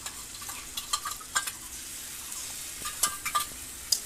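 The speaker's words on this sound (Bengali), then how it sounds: "তো পেঁয়াজ ভাজা হয়ে গেছে, রসুনটা দিয়ে দিচ্ছি" Onion and garlic fry in a pan, a soft sizzle broken by sharp clicks and scrapes of a spoon stirring against the pan, close by and without talk.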